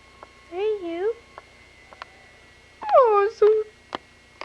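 A house cat gives two drawn-out, wavering meows a couple of seconds apart, loud and close, with a few small clicks between them in an otherwise quiet room.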